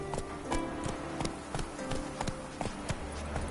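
Hooves of Roach, the horse from The Witcher 3 video game, clatter in a rapid, steady galloping rhythm close by, with repeated sharp clip-clop beats over a low rumbling game background.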